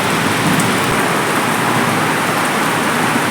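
Heavy storm rain pours steadily onto a flooding courtyard during a Baishakh thunderstorm, a dense, continuous close hiss with no pauses.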